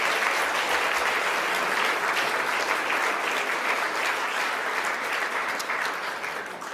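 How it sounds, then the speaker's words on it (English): An audience gives a sustained round of applause for a curator at an art collection event, dense and even clapping filling the room from start to finish. "I congratulate Bruce on this project and like to give him a round of applause."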